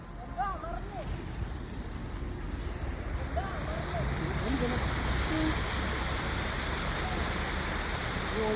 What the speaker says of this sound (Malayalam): നല്ലൊരു വെള്ളച്ചാട്ടം കണ്ടില്ലേ ആ വെള്ളച്ചാട്ടം ഒന്ന് കാണിച്ചു കൊടുത്ത